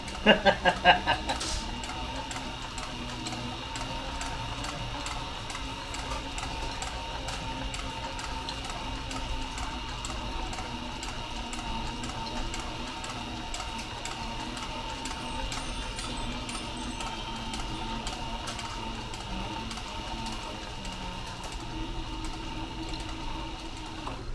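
A sewing machine stitches a fanny pack in one long continuous run after a few sharp clicks at the start, a steady close mechanical whir with faint ticking.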